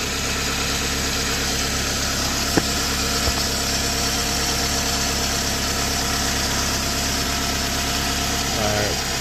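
A 2009 Toyota Camry SE engine idles just after an oil change, a steady, even mechanical hum and rumble heard up close, with a couple of faint clicks and no talking.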